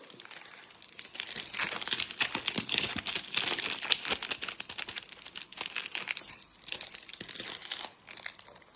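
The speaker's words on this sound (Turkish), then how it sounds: "şimdi şekerlerini açalım" Candy wrappers from a surprise-egg toy are torn open nearby, giving continuous close crinkling and crackling with a few sharper tearing bursts and no talking.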